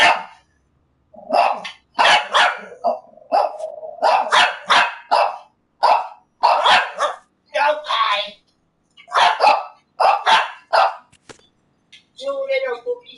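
Puppies yap and bark in short, loud bursts at close range, often in quick clusters with brief gaps between, ending with a softer whimpering whine.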